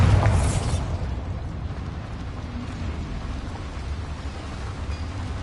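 The Bombarda explosion spell in Hogwarts Legacy goes off with a loud, deep blast that quickly settles into a long, even rumble of debris and ambience.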